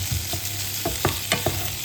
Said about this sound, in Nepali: अब हालेर हामीले एकछिन यसलाई मजाले भुट्छौँ